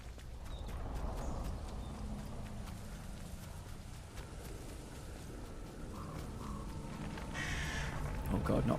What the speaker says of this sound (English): Oh god, not birds.